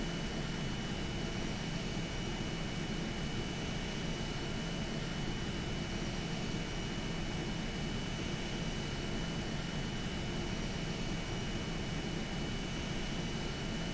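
Airplane engine in a flight video game, a constant broadband roar that drones evenly without change for the whole stretch, fairly faint and steady.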